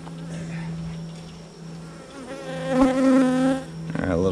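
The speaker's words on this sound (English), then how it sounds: "Lots of bees in there." Honeybees hum steadily around an open, crowded beehive in July, a close dense buzz that swells louder in the second half with a few sharper individual bees passing near.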